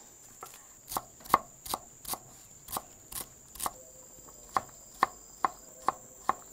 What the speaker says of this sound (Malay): nak potong daun sup